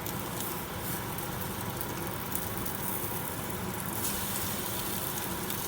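An egg fries in a pan after being flipped, giving a constant close crackling sizzle with a brief surge near the end, and no talking.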